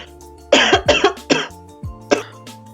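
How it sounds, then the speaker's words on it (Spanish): Several sharp coughs in quick succession, close and loud, followed by a pause and one more cough. "me dio un poquito de tos, tuve que parar el video"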